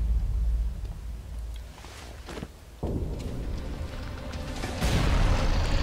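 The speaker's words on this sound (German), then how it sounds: "Das explodiert ein bisschen zu lang" An explosion in the video game ELEX bursts, then rumbles on with a long, roaring tail. A second loud blast swells near the end, with no talking.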